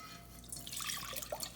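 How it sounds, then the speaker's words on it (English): Water pours steadily into a pot, a faint splashing trickle with a few drips, soft and close with no talking. "so we're adding 1 cup of water"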